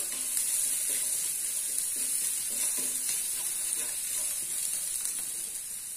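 Garlic dropped into hot oil in a pan beside ginger, a loud, continuous close sizzle with a bright hiss that stays steady throughout, no speech.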